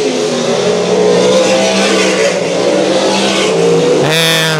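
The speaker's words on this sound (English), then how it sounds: "The two cars up front battling it out for the top spot." Sprint cars roar around a dirt track during a heat race, engines loud and close with a steady, droning rev and a sharp rise in pitch near the end as a car accelerates past.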